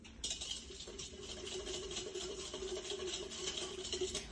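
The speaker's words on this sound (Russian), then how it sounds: "Перемешиваем." A spoon scrapes and swishes steadily through Sadko custard powder mixed with water, giving a close, continuous stirring sound with light rhythmic scratches and no talk.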